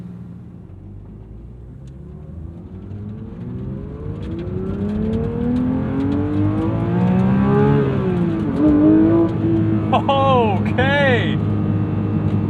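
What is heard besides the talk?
Porsche 911 GT3 engine revving to 9,000 RPM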